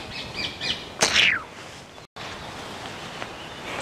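Birds sing in the woods with a few chirps and one bright, descending call, fairly close over a steady outdoor background hiss, with a brief dropout partway through.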